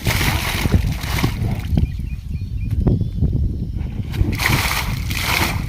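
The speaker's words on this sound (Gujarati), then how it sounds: "આમે સર મોટર ચાલુ કરી દીધી છે" A household water pump motor runs while water gushes and sloshes steadily through a pipe line, a loud continuous churning wash with brief dips in intensity.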